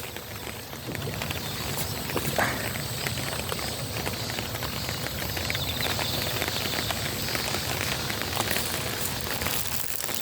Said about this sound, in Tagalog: Maulan pa rin. Buti gaano kalakas. Mahina lang.